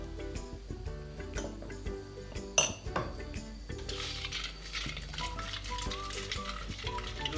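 Mustard seeds and fenugreek frying in oil in a kadhai, a crackling sizzle behind background music, with a sharp metal clink partway through and utensil clatter.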